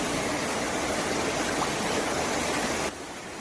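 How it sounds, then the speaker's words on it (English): Heavy water flow, a steady dense rushing roar like a torrent or downpour during record city rainfall, loud and continuous before dropping slightly near the end. "Beautiful sound of water."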